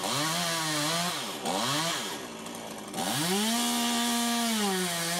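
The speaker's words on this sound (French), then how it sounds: "Réalisation du trait de scie arrière" A chainsaw makes the back cut through a tree's branch during pruning, its engine loud and close, revving and dipping in pitch as it bites into the wood, easing off briefly, then surging again.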